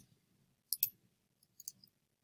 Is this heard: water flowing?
no